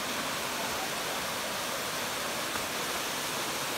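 Pelangi waterfall at Sungai Lembing, Pahang, pours in a steady, dense broadband rush with no breaks, a constant roar close by and alone.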